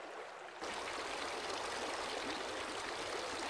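Fast-running mountain stream in the Rocky Mountains, a steady broadband rush of water that swells up loud after a quieter first half-second and then holds constant, with no voices.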